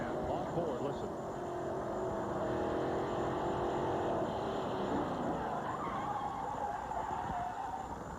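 Onboard engine roar from a sprint car at Winchester during a crash and flip, a loud continuous drone with shifting pitch, a voice talking faintly underneath.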